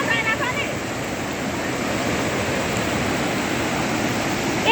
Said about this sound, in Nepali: यति चिसो पानी छ है कल कल कल कल परेको पानी